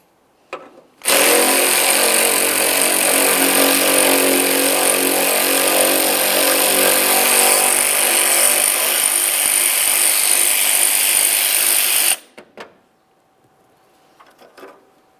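A power tool runs loud and unbroken for about eleven seconds while removing the 8mm side mounting bolts under a vehicle, then stops, followed by a few faint clinks.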